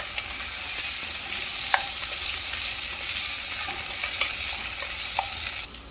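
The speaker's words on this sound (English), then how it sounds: "And we are going to stir it for like 10 seconds." Vegetables being stir-fried in a hot pan for Szechuan fried rice give a steady, close sizzle with scattered light clicks of a stirring utensil, running alone without pause.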